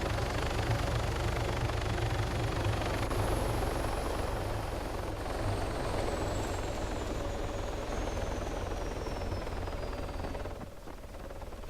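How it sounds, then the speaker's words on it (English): A small, agile helicopter in the game ArmA III sets down for a landing, its rotor and engine a steady loud roar that continues throughout, with a faint high whine sliding downward before the noise dips near the end. "especially in such an agile little helicopter which reacts massively to anything you do"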